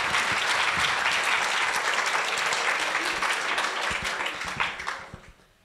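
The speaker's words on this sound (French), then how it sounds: "On l'applaudit pour lui donner un peu de force." Audience in France applauding, a full, close crowd of clapping hands that holds steady, then thins into a few scattered claps and fades out at the end.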